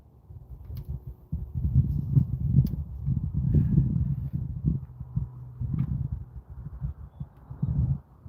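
A horse's hooves clip-clop in a steady, uneven walking rhythm on the ground during training at a horse rescue, fairly close and moderately loud, with low rumbling background noise and no speech.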